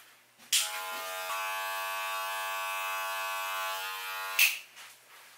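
Electric hair clipper on a self haircut at home, switched on with a click into a steady close mechanical buzz that holds for about four seconds before clicking off.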